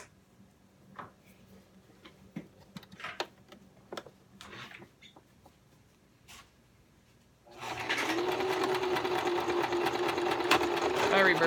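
A sewing machine stitches a fabric table runner seam, starting with a few scattered clicks and taps and then running continuously and loudly in a steady whir for the last few seconds.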